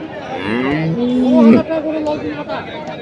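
A loud, close moo from Holstein Friesian crossbred bulls at a cattle market swells and then breaks off, followed by fainter lowing and a murmur of people in the background.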